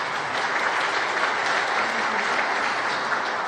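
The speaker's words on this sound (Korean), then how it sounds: "격려의 박수 한번 보내주시겠습니까?" A church congregation at a revival meeting gives a dense, sustained burst of applause for the conductor, many hands clapping together at an even level throughout.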